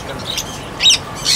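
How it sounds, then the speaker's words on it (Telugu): African lovebirds give short, shrill chirps and squawks, two or three quick calls over a soft background. "ఇవి ఆఫ్రికన్ లవ్ బర్డ్స్."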